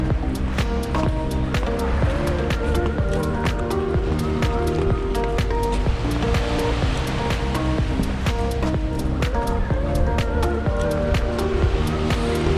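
Surf washes steadily onto a quiet resort beach, a constant rushing wash with scattered clicks and a low rumble underneath, heard up close and without talk.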